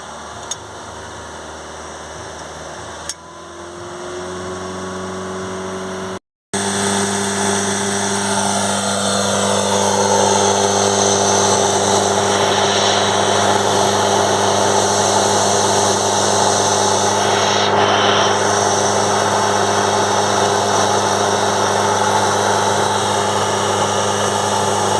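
A car engine is held at about 2,500 rpm during a turbo and carbon cleaner treatment, a loud steady drone with strong sustained tones after a brief cut, holding level without voices.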